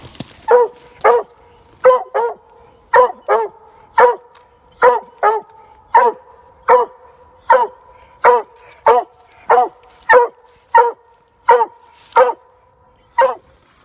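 Hunting dog barking on a nighttime coon hunt, a long run of loud, evenly spaced single barks, about twenty in a steady rhythm, close by over faint background hum.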